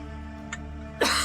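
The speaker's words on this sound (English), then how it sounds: "How long have you had that cough?" A single short, sharp cough bursts out after a quiet pause, preceded by a faint click.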